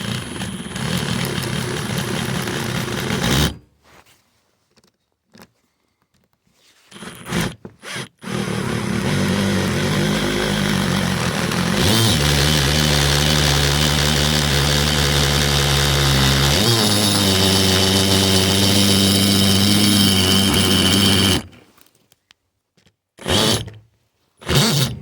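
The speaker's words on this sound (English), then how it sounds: "I'll be taking my drill and lining that up to my center of my dot and just slowly drilling through it all" A power drill bores slowly through a wooden flatbed, running in steady sustained bursts with short pauses between them and a change in pitch partway through.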